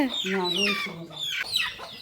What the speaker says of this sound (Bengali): সব মুরগি আন্দোলন শুরু করে দিছে মুরগি ধরার কারণে